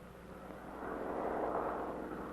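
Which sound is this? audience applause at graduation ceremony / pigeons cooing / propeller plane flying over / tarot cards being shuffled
propeller plane flying over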